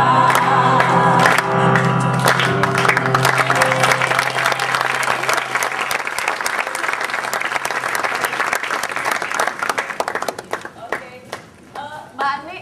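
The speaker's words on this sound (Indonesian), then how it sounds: "Aplaus." A studio audience on a Global TV talk show claps loudly and steadily for several seconds. The applause then thins into scattered claps and fades out.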